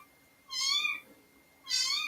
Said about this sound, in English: Sounds like a tomcat